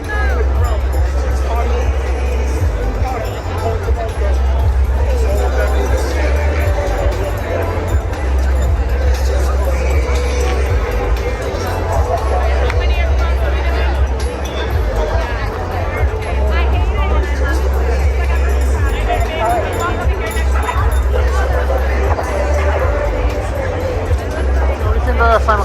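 Crowd chatter fills a No Kings protest march in Providence, a steady dense babble of many voices with a low rumble underneath, continuous and fairly loud throughout.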